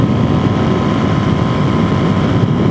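A Suzuki DRZ470 motorcycle cruising on the highway, its engine a steady, loud, close drone mixed with wind rush and no pauses.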